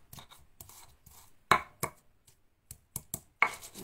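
Garlic being crushed and chopped for tempe mendoan batter, heard as a series of sharp, close knocks of uneven spacing, some louder than others, with quiet pauses between.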